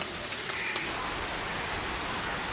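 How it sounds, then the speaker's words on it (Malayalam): Steady rain falls with a soft, even hiss and occasional light patter of drops, continuous and moderately quiet, with no voices. "മഴ പെയ്ത് തുടങ്ങി"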